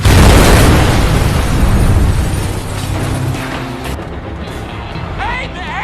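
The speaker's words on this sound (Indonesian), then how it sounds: "terjadi ledakan akibat drum berisi penuh minyak" A loud explosive boom from a drum full of oil opens with a dense roar that slowly fades into rumbling debris and background noise, in a film.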